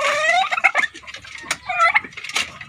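Turkeys gobble in quick, warbling bursts close by, a few overlapping calls rising and falling with no talking.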